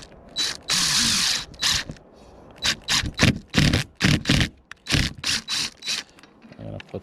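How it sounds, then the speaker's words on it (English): A power drill pre-drills screw holes into a wall stud for mounting a Starlink dish, running in a string of short, close, on-off bursts with brief pauses between them. "I'm just gonna do a quick pre-drill."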